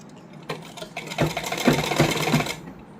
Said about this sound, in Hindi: अब हम इसकी फिटिंग की सिलाई लगाएंगे।